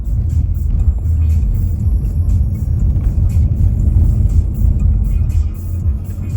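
A rental car cruising along an Italian motorway gives a loud, continuous low roar of engine and tyre noise, with a steady rumble that barely changes throughout.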